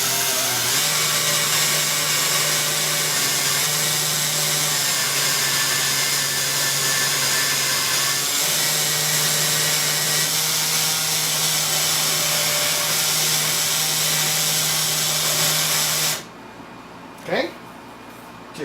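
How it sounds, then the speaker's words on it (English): An electric drill spins a short metal shaft while steel wool polishes it during restoration of a 1920s battery radio. It makes a steady, loud whir for about sixteen seconds, then stops with a brief clunk. "Just have a piece of shaft in the drill."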